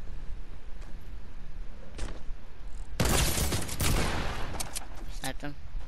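A dense cluster of gunfire from the video game Fortnite crackles under a steady noisy bed, peaking in a loud rapid flurry midway, with players talking.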